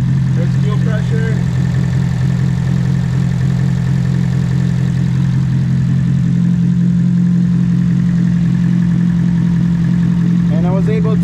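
A Nissan S13's engine runs steadily at a low, droning idle close by, with a constant hum under the whole stretch. A voice briefly breaks in over it near the start and again at the end.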